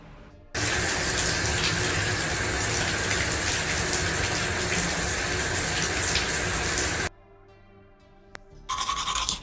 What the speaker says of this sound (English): Took a shower.